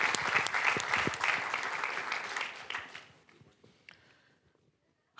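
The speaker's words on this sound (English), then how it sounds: "now that's a round of applause" A room of business school alumni breaks into brief, lively clapping that starts loud and tapers off over a few seconds into scattered claps and then quiet.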